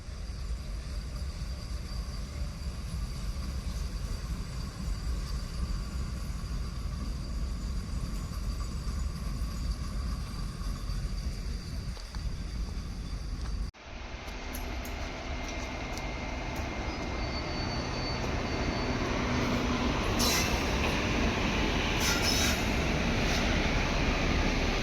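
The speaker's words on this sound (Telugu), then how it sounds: "ఇదిగోండి ఇప్పుడైతే ట్రైన్ ఒకటి వస్తుంది." A large train pulls into the new Charlapalli railway station in Hyderabad, heard as a faint, continuous low rumble that rises and grows louder toward the end, with no talking.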